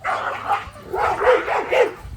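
A reactive dog barks in a series of about four sharp, close barks with brief whines between them, loud and clear with no talking.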